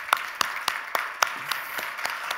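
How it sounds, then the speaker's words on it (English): A handful of people clapping for volunteers, about eight to ten distinct claps in a loose uneven rhythm, close and fairly loud with no voices over them. "I'd like to just give our volunteers who came out a round of applause"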